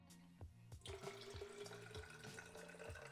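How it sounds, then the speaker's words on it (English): Water runs from a tap into a sports drink bottle, a close, steady trickling fill with rhythmic low gurgles as the bottle takes on about 500 millilitres. "Now add the water."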